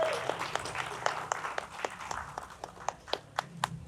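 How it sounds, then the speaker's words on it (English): At a jiu jitsu gi class promotion day in Phuket, a small group claps steadily for a student receiving belt stripes. The applause is fairly faint, with scattered sharp hand claps. "Yeah, clap it up."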